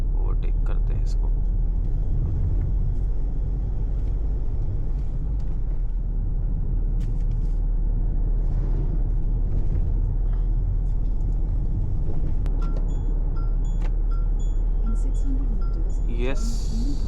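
A Mahindra XUV700 SUV cruises and overtakes on a highway, heard from inside the cabin as a steady, heavy road and engine rumble that continues without a break.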